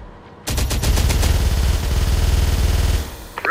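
A rapid burst of automatic gunfire hits a Humvee in the game Terminator: Dark Fate – Defiance, loud and close, with dense rattling shots lasting about two and a half seconds before they stop abruptly.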